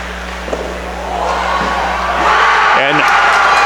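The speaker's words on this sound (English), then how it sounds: "And the crowd goes wild." A crowd roars and cheers at a high school hockey game on senior night, a steady loud wash of voices swelling louder toward the end, with a shrill whoop cutting through near the close.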